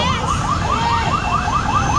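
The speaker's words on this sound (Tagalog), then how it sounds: "Ayan na yung ambulansya." An ambulance siren arrives at the scene of an explosion, wailing in a fast repeating yelp pattern over loud rumbling street noise, close and continuous, with no voices.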